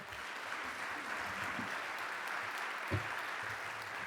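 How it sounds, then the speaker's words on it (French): An audience applauds four speakers at an opening plenary session, steady massed clapping from a seated crowd that holds evenly throughout, fairly distant and soft. "je vais vous proposer de les applaudir tous les quatre, bien sûr"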